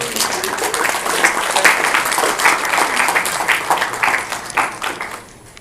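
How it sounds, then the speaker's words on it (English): A convention audience at a panel on third-party toys breaks into applause, a dense wash of clapping that builds, holds, then tapers near the end, with a voice talking over it. "This deserves a round of applause."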